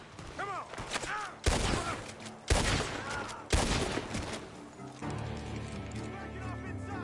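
Gunshots ring out from a barn in Red Dead Redemption 2, three sharp heavy blasts spaced about a second apart over a busy game soundscape, ending in a steadier mechanical rumble.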